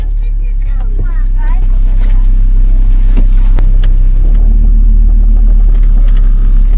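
A car pulls away, its engine a steady low rumble that swells gradually from inside the cabin, with faint voices underneath.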